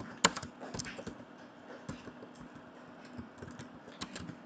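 Computer keyboard keys are pressed for the Ctrl+Z undo shortcut, a quiet scatter of light plastic clicks and taps at irregular intervals against a faint hum.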